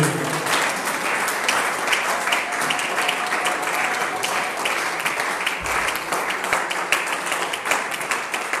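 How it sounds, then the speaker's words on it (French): A church congregation applauds continuously at a French-language seminar, dense and fairly loud clapping that holds steady throughout, with a voice faintly audible beneath it. "Nous acclamons la parole de Dieu."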